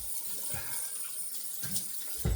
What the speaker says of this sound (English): I'll put some cool water on it.